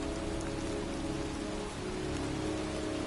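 Heavy pouring rain falls steadily in a cemetery in the video game Heavy Rain, a dense, even wash of drops on surfaces with no pauses or voices.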